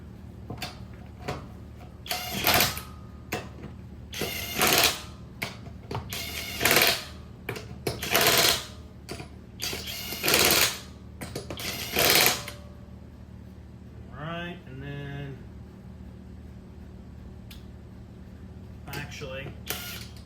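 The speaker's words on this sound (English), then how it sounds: "Get my impact set up for hand tight here." An impact wrench works the lug nuts on a 2017 Infiniti QX80 wheel during a tire plug job, in a series of loud buzzing bursts of a second or so each, with pauses and short speech between.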